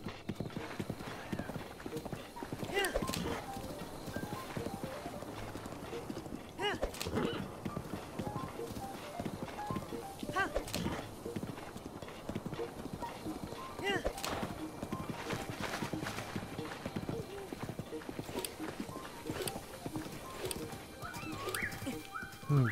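Horse hooves clip-clop at a gallop in Zelda: Breath of the Wild, a steady rapid patter with occasional whinnies, running under someone speaking German.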